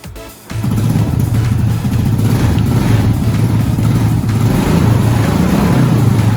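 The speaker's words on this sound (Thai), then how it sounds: "ขั้นตอนต่อไปทำการสตาร์ทเครื่องยนต์" A Honda Wave 125i motorcycle engine, after an oil change, starts with a brief crank and catches, then settles into a loud, close, steady idle with a rhythmic putter and slight mechanical clatter.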